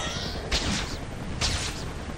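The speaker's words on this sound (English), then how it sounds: "Just heard gunshots." Gunfire in the Spider-Man 2 video game on PS2, two brief sharp bursts about a second apart, fairly faint over a steady background hum.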